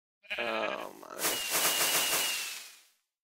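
Minecraft fireworks go off: a launch whoosh, then a long crackling burst that fades out over about two seconds, moderately loud.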